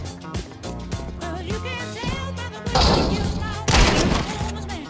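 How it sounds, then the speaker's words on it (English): Rapid gunfire from a Counter-Strike 2 match, dense bursts of quick shots layered over game music and effects, growing louder in two heavy volleys toward the end. "How do they shoot so fast?"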